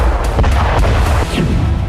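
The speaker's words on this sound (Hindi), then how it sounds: "इसके अंदर मिसाइल के 700 किलो के विस्फोटक के ब्लास्ट से कमांड सेंटर तबाह हो गया।" A missile strike explodes on a command post in Russia's Kursk region, a loud, heavy series of booming blasts with rumbling low end and rapid crackling impacts.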